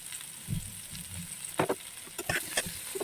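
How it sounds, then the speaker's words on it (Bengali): Potatoes and eggplant sizzle quietly in a pan, with soft frying hiss and occasional scraping stirs against the metal. "এবার এটা একটু ভাজা হোক"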